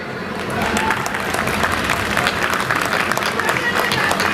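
A large crowd applauds a Supreme Court lawyer's speech at a mass public gathering, with dense, steady clapping that swells after a quieter start and holds loud and continuous, with voices mixed in.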